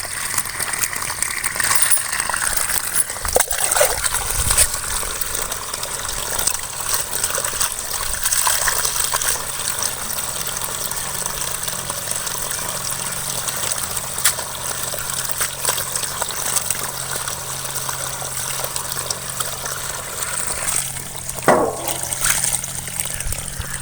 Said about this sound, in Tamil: இந்த முசு முசுக்கியோட கீரையை நம்ம அலசி எடுத்துக்கலாம்